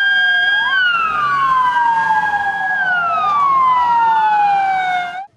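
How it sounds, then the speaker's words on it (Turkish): Ambulance sirens wail after an explosion in Sıhhiye, Ankara, with several overlapping sweeping tones, loud and close, cutting off abruptly at the end. "Sıhhiye'deki tüm ambulanslar buraya yönlendirildi"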